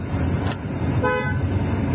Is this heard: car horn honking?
yes